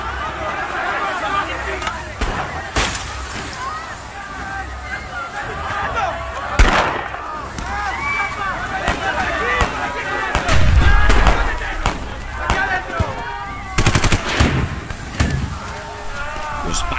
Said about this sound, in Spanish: al fondo comenzaron a escucharse detonaciones que vaticinaban la muerte en masa